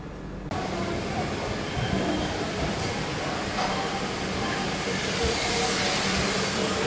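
A train stands at platform 4 of Erode Junction railway station, with a steady broadband hiss and rumble of station and rolling-stock noise continuing throughout at moderate level.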